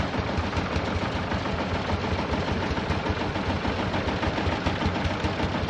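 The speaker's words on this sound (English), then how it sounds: "Pulling tractors over here." Several pulling tractor engines run at an outdoor steam and engine show, a dense, continuous low rumble with a rapid rough pulsing throb, steady and loud throughout with no talking.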